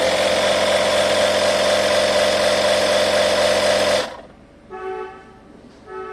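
Tusa portable smart tyre inflator pumping a car tyre, a loud buzzing motor drone that runs steadily for about four seconds then stops, followed by a few faint electronic beeps.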